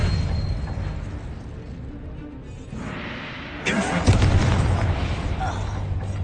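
A spell fires in Hogwarts Legacy: after low game ambience and muffled voices, Expelliarmus cracks out as a sudden bright burst with a booming impact that lingers in a rumbling wash.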